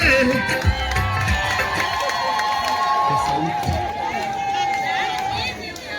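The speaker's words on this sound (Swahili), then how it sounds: "Makofi na vigeregere jamani." Wedding guests at a Tanzanian marriage blessing applaud, cheer and ululate in a loud, continuous crowd din, with high trilling voices over clapping and chatter throughout.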